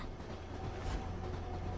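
Train rolling along rails inside the video game Wuthering Waves, a steady low rumble with soft rhythmic rail clatter and a brief swell near the middle, continuous and fairly close, no voices.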